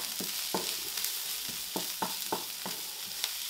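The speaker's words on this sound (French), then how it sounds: "Je fais revenir dans un peu d'huile d'olive des oignons blancs." White onions frying in a little olive oil, a steady broadband sizzle with a series of regular scraping stirs roughly every quarter to half second, close and fairly loud, no talking.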